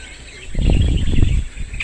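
Birds calling from trees beside a forest pond, a cluster of chirps and twittering near the middle, set against steady insect-like hiss and rustling ambience.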